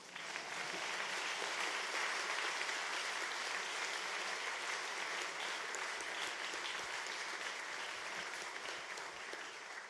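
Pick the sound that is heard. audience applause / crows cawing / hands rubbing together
audience applause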